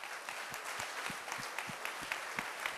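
An event audience breaks into applause, steady clapping from many hands filling the room at moderate loudness with no voices over it.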